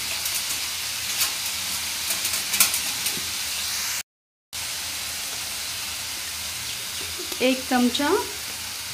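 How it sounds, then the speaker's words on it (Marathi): Chicken kheema frying in oil with ginger-garlic paste, a steady broadband sizzle and hiss throughout, briefly cut out, with louder spoon scrapes and stirring near the end and a short spoken phrase over the cooking. "व्यवस्थित परतून घ्यायचा आहे खिमासोबत।"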